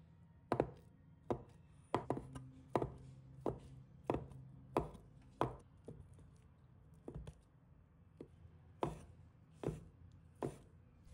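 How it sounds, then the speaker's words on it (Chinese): A knife chops napa cabbage into small pieces on a cutting board, about fifteen crisp, separate thuds in an uneven rhythm, close and clear against a quiet background. "再把它改刀切成小块"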